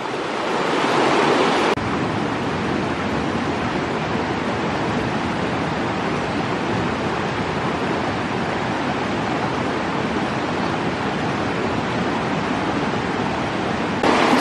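Steady rushing of river water flowing around someone wading across a shallow jungle river on a rough trail toward the Cilalay waterfall near Karawang–Jonggol, loud and continuous throughout with no talk.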